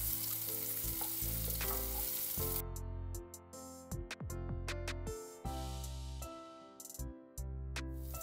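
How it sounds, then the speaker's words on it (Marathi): Steamed potatoes and sweet potatoes sautéing over high heat, loud continuous sizzling and frying with stirring clatter, the hiss dropping in bursts as the pan is tossed and scraped. "गॅस मोठा ठेवा आणि आपल्याला काइंड ऑफ सॉटे व्हेजिटेबल सारखे हे परतायचे आहेत"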